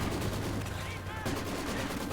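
Machine-gun fire from Maxim guns in a Company of Heroes battle, a dense steady stream of gunshot bursts mixed with other combat noise throughout, with faint voices underneath.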